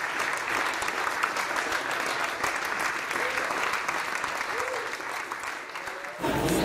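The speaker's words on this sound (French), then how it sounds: "De bon applaudissement, Henri Thibodeau, mesdames et messieurs." Sustained applause from an audience at a retirement celebration for a family doctor, dense steady clapping filling the room for several seconds before a voice begins speaking near the end.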